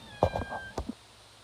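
A cat meows several times in short, close calls, a few quick mews in a row, with a faint tone humming in the background.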